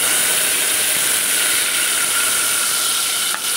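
Masala for coconut milk rasam sizzles in hot oil as it is sautéed, a loud, continuous frying hiss that holds steady throughout with a faint clink near the end.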